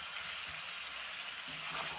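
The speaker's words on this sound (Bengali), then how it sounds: "তো এইভাবে ভালো করে একটু কষিয়ে নেব" Cauliflower curry sautéing with spices, salt and a splash of water in a pan, a faint, steady sizzle and bubble with soft stirring scrapes.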